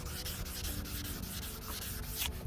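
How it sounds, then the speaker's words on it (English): Steady hand sanding of an oxidized plastic headlight lens on a 2008 Hyundai, a rhythmic back-and-forth scrubbing of abrasive paper on a hard surface, repeating roughly every fifth of a second, close up. "That means you keep sanding a little bit more just to be safe."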